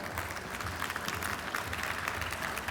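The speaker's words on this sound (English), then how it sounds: "a nice round of applause for them as they come" At a World Travel Market conference, an audience gives sustained, dense applause as women aviation leaders walk onto the stage for a panel. The clapping is full and continuous from a sizeable crowd.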